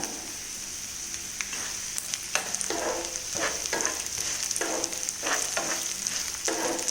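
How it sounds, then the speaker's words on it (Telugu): Mustard and cumin seeds sizzle and crackle in hot oil, with steady frying hiss and irregular sharp pops throughout, close by. "పోపు బాగా వేగిందనుకోండి కటకట వస్తుందన్నమాట"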